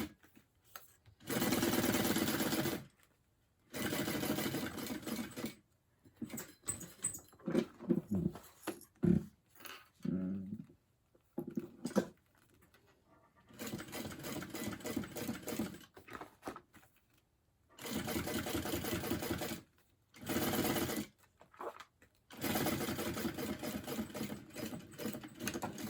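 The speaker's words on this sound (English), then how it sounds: "pocket is stitched on" A sewing machine stitches a pocket onto a fabric bag, running in several loud bursts of steady rapid whirring separated by short pauses and quieter stretches of handling.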